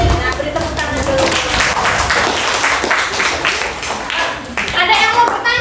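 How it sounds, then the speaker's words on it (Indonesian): An Indonesian school class applauds, with many small hands clapping briskly and loudly up close, and children's voices mixed in among the claps. "beri tepuk tangan dulu"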